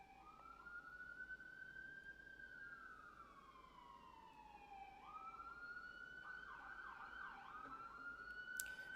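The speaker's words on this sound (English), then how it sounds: "Why are there so many sirens today?" A wailing siren sweeps up and down steadily, then shifts to a faster yelp near the end, loud and continuous over traffic rumble.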